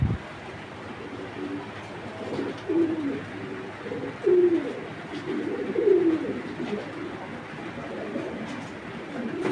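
Racer pigeons coo in a few low, rolling calls over a steady background hum, moderately close and with no talking.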